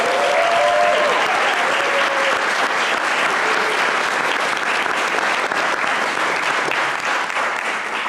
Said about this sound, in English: how about one more round of applause for our 2024 state championship